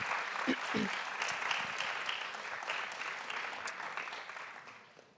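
An audience at a talk on Spain's democratic transition gives a speaker steady applause, a full wash of clapping that holds evenly before tapering at the end, with a voice briefly heard.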